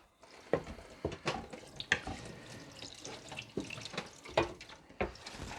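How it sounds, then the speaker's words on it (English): Something is rinsed under a running kitchen tap, giving a close, continuous splash of water broken by irregular louder gushes and drips as it is moved through the stream, with no talking. "Let me just give this a rinse."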